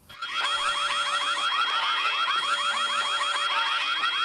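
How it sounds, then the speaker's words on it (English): Rapid, continuous electronic beeping like a smoke detector alarm plays steadily from headphones, loud and unbroken with no talk over it. "Sounds like a smoke detector."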